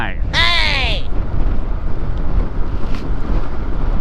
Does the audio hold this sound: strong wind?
yes